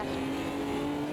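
Stock car engines in the racing game Automobilista 2, a steady loud droning roar holding one pitch throughout with no break.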